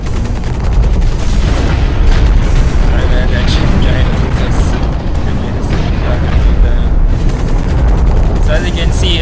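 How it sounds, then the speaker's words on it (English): Missiles fired from a mech in the shooter game Hawken burst in a continuous barrage of loud, close booms and rumbling blasts, overlapping densely across the whole stretch with no speech. "So you can shoot missiles with your..."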